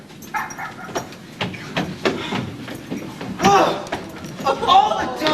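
On a stage comedy production, a dog whimpers and gives a few short yips and barks in scattered bursts, mixed with people talking and stage noise nearby.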